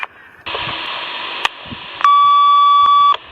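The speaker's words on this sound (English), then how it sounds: "It'll make a beeping sound to me" A 1977 Sears CB walkie-talkie sounds a loud, steady electronic tone, first a sustained buzzy note and then a higher pure beep held for about a second, with a few sharp clicks between.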